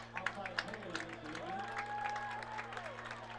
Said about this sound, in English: Clear Lake fans are clapping